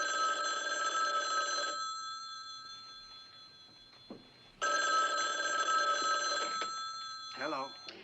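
A telephone rings in two long electronic bursts separated by a pause, loud and close in a jury courtroom, with faint movement and a brief voice between rings.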